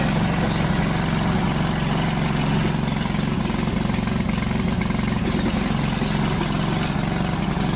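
Gasoline engine of a VTC550-90 remote control crawler weed mower running at a steady idle, loud and close, a constant buzzing drone with no change in pitch and no voices.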